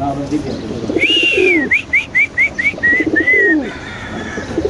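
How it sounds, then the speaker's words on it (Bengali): Pigeons coo in a series of soft, rolling calls, several short repeated phrases close to the microphone, with faint background voices and ambient noise. "কবুতর ডাকটা দেখানোর জন্য একটু আপনাদের ইনশাআল্লাহ সামনে দেখাচ্ছি"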